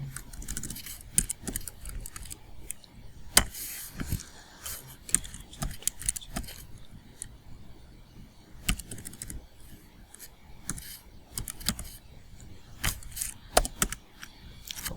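Scattered, quiet clicks of keys on a computer keyboard as a phone number is entered, irregular taps with pauses between them and no talking.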